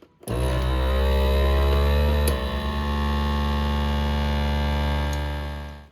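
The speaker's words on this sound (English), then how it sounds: "put on the jar sealer. And just like before, plug it on in and it'll shut off all on its own." An electric vacuum jar sealer runs on a jar lid with a steady motor drone and pump hum, starting abruptly, wavering briefly midway, then holding an even pitch until it cuts off at the end, close and loud.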